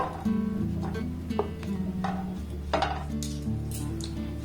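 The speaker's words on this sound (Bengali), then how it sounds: "যে রুটিগুলোকে আমি টুকরো টুকরো করে কেটে নিয়েছি সেগুলো এই ফ্রাই প্যানের মধ্যে দিয়ে দেব" Pieces of cut bread are dropped into a dry, preheated frying pan over a gas flame, giving a few clinks and light scrapes of pan contact against a steady low background hum.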